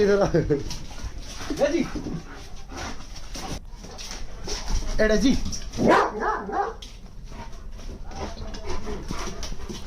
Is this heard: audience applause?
no